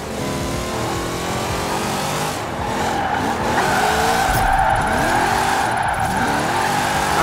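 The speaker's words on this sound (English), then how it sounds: "I took it around the little drift turn." A 1990 Chevy Camaro Z28 IROC-Z rear-wheel-drive drift car revs hard and slides through a turn, tires squealing loudly and continuously over the roaring engine, close and intense.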